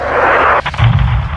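RPG blasts in Call of Duty MWII land as a heavy low boom near the end, following a sharp crack and the rushing roar of incoming fire. The sound is loud and close, with no talk over it.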